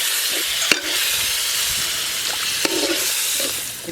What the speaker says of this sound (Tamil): இப்போ நல்லா வெங்காயம் எல்லாம் நல்லா வதங்கிருச்சு